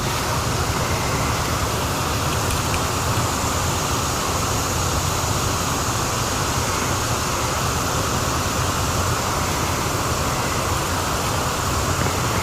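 Steady rain falls on a lake during fishing, a dense and even hiss of drops that holds unbroken throughout with no voices.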